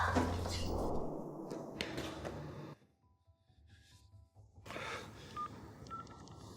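Touch-tone telephone dialing beeps: short steady electronic tones in a brief run, fairly quiet, set between stretches of other indoor noise.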